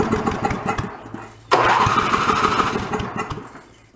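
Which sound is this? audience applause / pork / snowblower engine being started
snowblower engine being started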